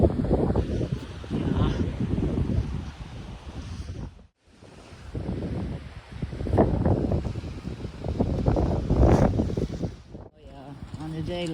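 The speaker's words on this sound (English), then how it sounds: "Because this wind is quite strong." Strong wind roars at a beach on the Costa del Sol after a storm, a loud blustery rush that buffets the microphone in surges and drops out briefly near the middle.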